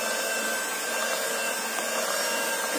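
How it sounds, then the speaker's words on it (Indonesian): An electric mixer whirs steadily through kue cucur batter from Ciamis, a constant close motor hum with no talking. "Selanjutnya adonan kita mixer sampai tercampur."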